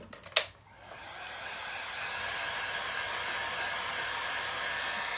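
A hair dryer blows on the back of a freshly painted vintage frame. A few clicks and a brief bump come first, then a loud steady whooshing roar that continues to the end.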